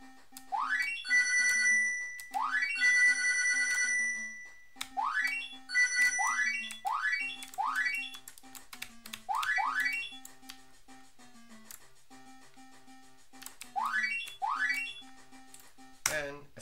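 A short original song made as background music for a Godot video game, with bright synth tones sweeping upward in repeated phrases over a steady low pulse, playing alone and fairly loud.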